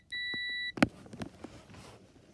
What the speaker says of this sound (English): before you use continuity test, touch the probes together